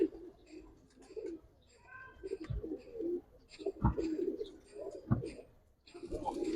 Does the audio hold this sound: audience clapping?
no